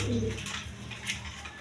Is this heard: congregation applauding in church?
no